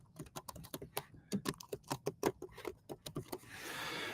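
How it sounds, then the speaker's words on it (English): A name being typed on a computer keyboard, quick uneven bursts of close key clicks for about three seconds, ending in a soft whoosh. "So I'm going to type in my name."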